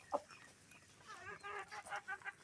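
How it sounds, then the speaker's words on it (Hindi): Chickens, including a hen and a Pakistani Aseel fighting rooster, cluck in a series of short, moderately close calls, one sharp call at the start and a denser run of clucks later, with faint background noise. "ये मैं मुश्का पाकिस्तानी मेरा मुर्गा है"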